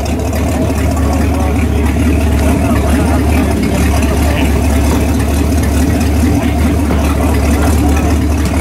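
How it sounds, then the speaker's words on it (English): A vintage boat engine at a boat show runs continuously, a steady low rumbling drone, loud and close, with no clear talk over it. "That engine turned backwards, they're driving off the front."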